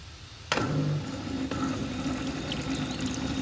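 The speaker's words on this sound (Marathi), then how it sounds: "खालून याच्या पाणी निघते" Water runs out from beneath a small homemade model farm watering machine, a steady close trickle and splash that starts abruptly and continues without a break, with no talk over it.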